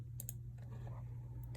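Control+K shortcut pressed on a computer keyboard, a few soft close key clicks over a steady low electrical hum, no talking.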